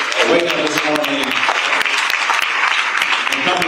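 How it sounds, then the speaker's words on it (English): Steady applause from a crowd fills the room, dense clapping at an even level throughout with a few voices mixed in. "give yourselves a round of applause"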